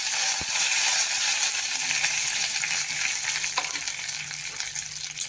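Cumin seeds sizzle in hot oil with mustard seeds while a traditional wild okra seed amti is being prepared, a loud, steady frying hiss throughout with a few sharp crackling pops.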